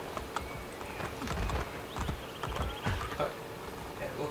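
Hooves clip-clop steadily on Roman streets as horses ride in Assassin's Creed Brotherhood, with a brief whinny partway through, a rhythmic mid-level gait under occasional chatter.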